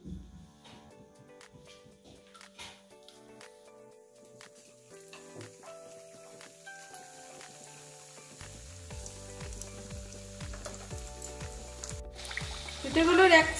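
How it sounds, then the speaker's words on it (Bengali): Milk-filled gokul pitha cakes fry in hot white oil in a wok, with a soft sizzle and bubbling that swell louder toward the end, while a person talks through much of it. "তেল গরম হয়ে গেছে, পিঠেগুলো ভেজে নিচ্ছি।"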